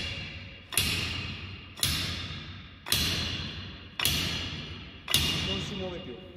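A tube is struck repeatedly to drive it down and seat an axe head on its handle: five evenly spaced, solid knocks, each ringing out and fading before the next, close and loud with no speech.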